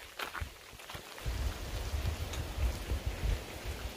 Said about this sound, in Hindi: बस कंटिन्यू बारिश ही हो रहे हैं